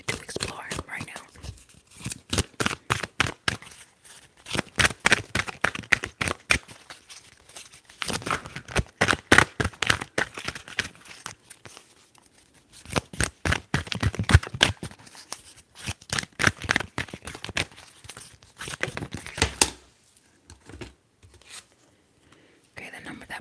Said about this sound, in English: Let's shuffle and see what lesson is the universe inviting you to explore right now.